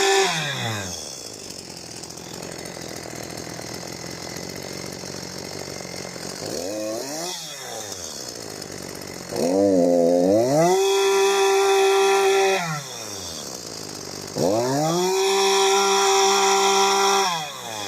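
A STIHL MS 150 TC chainsaw engine idles steadily, then revs up loudly in three separate bursts that rise and fall, each followed by a drop back to idle, close up and alone.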